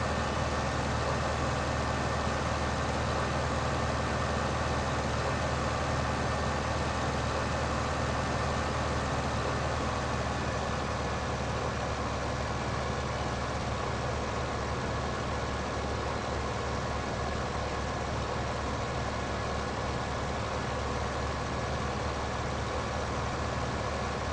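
A small tractor engine in Farming Simulator 15 on PS4 Pro drones steadily, a constant low rumble with broadband hum lasting throughout, moderately quiet and unbroken by speech.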